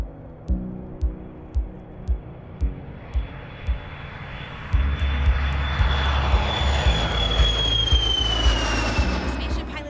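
Jet engines of the Virgin Galactic carrier aircraft, mated to its spaceplane, rise into a loud sustained roar after a run of rhythmic thumps, with a high whine sweeping across and faint voices beneath.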